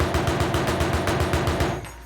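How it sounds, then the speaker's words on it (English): Heavy turret machine gun in Arma Reforger firing a rapid, steady burst of about a dozen evenly spaced loud shots, close and booming, then cutting off. "you can switch weapon to the heavier machine gun"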